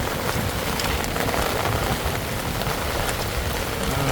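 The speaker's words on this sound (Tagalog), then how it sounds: "tag-ulan na" Rain falls steadily in the Philippines, a dense, even hiss of drops on surfaces with faint wind, loud and unbroken throughout.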